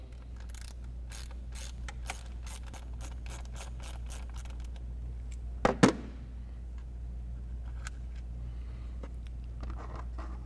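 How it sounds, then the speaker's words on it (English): A ratchet with a 10mm socket works a bolt off a mounting bracket on a 2022-2024 Toyota Tundra during an oil separator install, giving a steady run of fine clicks with a louder clunk partway through, up close with a low hum underneath. "So we'll use our 10mm socket to remove this bolt."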